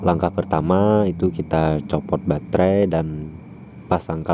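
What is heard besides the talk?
No everyday noises stand out.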